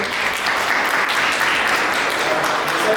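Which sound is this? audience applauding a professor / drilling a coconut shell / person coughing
audience applauding a professor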